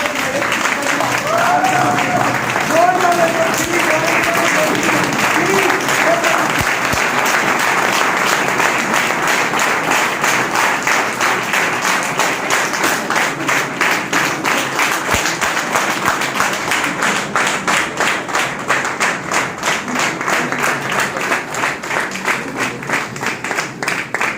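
Long, loud applause from a crowd at a birthday celebration for an RCM leader. Mixed clapping with a few voices early on gradually settles into rhythmic clapping in unison.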